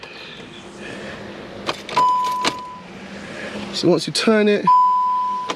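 Warning beeps sound from the dashboard of a 2018 VW T-Roc with component protection active, a steady tone followed by clustered chimes and beeps, close and loud, while a person talks over them.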